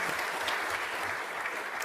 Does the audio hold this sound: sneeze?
no